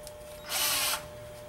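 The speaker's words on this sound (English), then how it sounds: "If I take a piece of wood and drill the hole through it" A short burst of a power drill boring a hole through wood, whirring for about half a second, loud and close against a quiet background.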